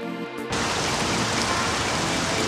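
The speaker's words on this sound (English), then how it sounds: "There is also a chance for rain, which I will activate via the console right now." Video game rain in a GZDoom weather mod switches on after a brief quiet moment, becoming a dense, steady hiss of downpour that fills the scene evenly.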